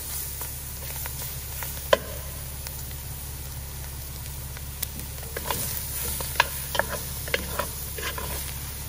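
Alligator sauce piquante cooking in a pot with onions, a steady soft sizzle and bubbling with scattered small pops and ticks, close and moderately quiet, with no talking.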